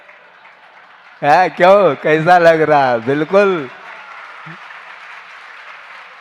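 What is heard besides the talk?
audience clapping at a religious discourse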